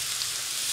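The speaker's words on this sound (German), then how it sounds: "jetzt könnt ihr die Süßkartoffeln erstmal eine Weile anbraten auf mittlerer Hitze" Onions and sweet potatoes fry in a pan over medium heat, giving a steady, close crackling sizzle with no voices over it.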